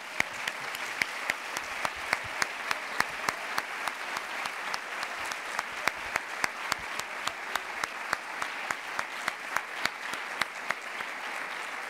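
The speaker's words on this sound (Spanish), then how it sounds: "Yo que soy papi, yo creo que ellos se merecen un aplauso" Sustained crowd applause for the parents at a university engineering graduation ceremony, steady dense clapping with a few sharp claps standing out, moderately distant and continuing for the whole stretch without speech.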